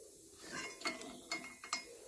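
A ratchet tightens the drive belt on a John Deere 115 ride-on mower, three sharp clicking strokes spaced under a second apart over a faint background, close by and without speech.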